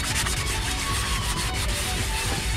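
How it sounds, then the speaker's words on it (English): Continuous, close scratchy rubbing as a fine-grain sanding sponge is worked briskly back and forth over a wooden board, with no pauses. "I'm just gonna use a fine grain sponge, sand off the rest of this."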